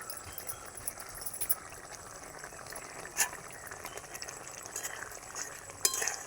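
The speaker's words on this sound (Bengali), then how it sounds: "আর কিছুক্ষণ ফুটবে এটা, তারপরে নামিয়ে নেবো।" An egg omelette curry simmers in a pan, with a soft continuous bubbling hiss and occasional small clinks, close by and fairly quiet.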